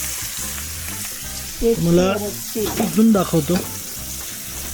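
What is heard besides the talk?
surmai fish frying in oil on a wood stove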